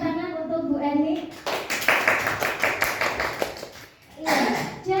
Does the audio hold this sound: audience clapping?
yes